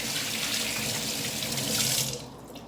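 A faucet runs steadily while a glass bottle, freshly cleaned of glue residue, is rinsed and washed beneath it, a loud close splashing stream that stops near the end.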